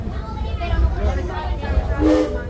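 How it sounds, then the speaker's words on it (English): A Six Flags Railroad train whistle at Six Flags Over Texas sounds near the end, a steady high tone rising over rumbling train noise and background chatter from a crowd. "Now wait for that whistle"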